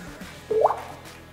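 A man imitates a water droplet with his mouth, producing a single close, clear liquid plop that rises quickly in pitch and fades over about a second in a quiet room.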